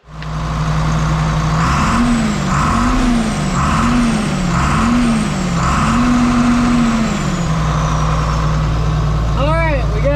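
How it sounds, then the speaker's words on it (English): A farm tractor in a cotton field, freshly fitted with new filters, running close by with a loud, steady engine rumble that wavers rhythmically in pitch for several seconds before settling into an even idle. "we got our tractor running"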